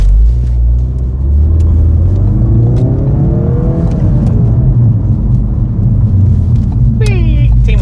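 A car driving in a convoy, its engine rumbling loudly and continuously with rising and falling revs, while a person talks over it and a brief sharp noise comes near the end.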